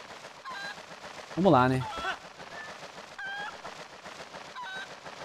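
A chicken in the video game Zelda Twilight Princess gives a loud, honking squawk with a run of stacked harmonic calls, followed by a few faint chirps over steady game background noise, while someone speaks briefly.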